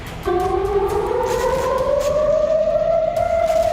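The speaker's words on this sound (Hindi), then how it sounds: "तेल अवीव और दूसरे इलाकों में लगातार सायरन बज रहे हैं।" An air raid siren in Tel Aviv wails steadily with a slowly rising pitch, loud and continuous, carrying over a low rumble of background noise.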